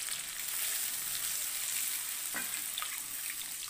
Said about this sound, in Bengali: আমি ফুলকপিটা সামান্য একটু ভেজে নিচ্ছি